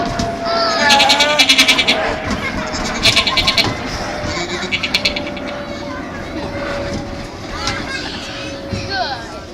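At an outdoor summer-camp stunt show, a performer bleats like a sheep in a series of loud, wavering pulses, imitating the animal, with voices and children's chatter around.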